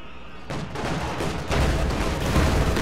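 Field gun and other artillery firing in a Company of Heroes 2 battle against a Panzer IV, heavy booming blasts and crackling rumble layered densely, loud and continuous.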